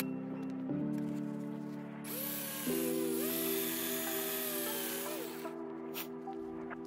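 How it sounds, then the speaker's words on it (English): A drill spinning a brass tube for polishing whines steadily with a shifting pitch, the tone stepping up and down as it spins, accompanied by a faint scraping hiss. "put the entire tube into a drill bit, and it just cleans right up and gets really shiny"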